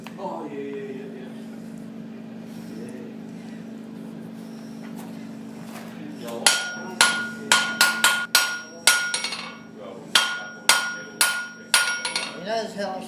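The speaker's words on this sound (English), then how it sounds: "Have you ever noticed how much that metal's moving when I hit it" A blacksmith hammers metal in a Port of Echuca forge, starting with a low hum and sparse taps, then settling into a loud, ringing rhythm of evenly spaced hammer blows on the anvil.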